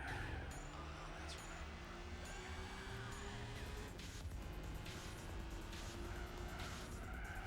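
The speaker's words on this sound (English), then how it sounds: "Whoa, bit of a understeering drift there." Gran Turismo 4 racing car understeering through a corner, tires squealing steadily over a continuous engine drone, sustained and fairly close for several seconds.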